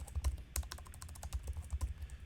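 Fingers tap on a computer keyboard in a quick, irregular burst of close, crisp keystrokes while a name is entered during a Git web tools lesson, with no talking.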